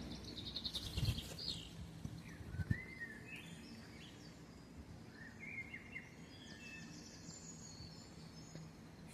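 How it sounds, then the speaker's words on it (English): Birds sing and chirp beside a canal lock on the Wigan flight, scattered bright calls and short phrases at a moderate distance over a quiet outdoor background, with a couple of soft nearby knocks. "Birds are singing, they're happy."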